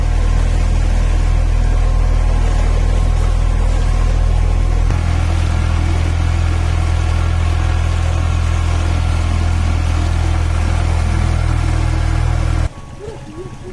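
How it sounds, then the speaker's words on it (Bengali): A boat engine runs close by on the Mahanadi river at Satkosia in Odisha, a loud, steady low drone with a voice talking over it, then the noise drops sharply near the end. "আমি একদম ইঞ্জিনের পাশে বসে আছি, আওয়াজ আসছে যথেষ্ট পরিমাণে"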